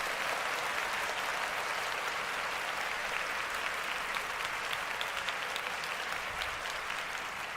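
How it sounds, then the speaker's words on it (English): A crowd cheers and applauds as a sound effect, with dense, continuous clapping and a roar of voices holding at a steady loud level throughout. "The crowd goes wild."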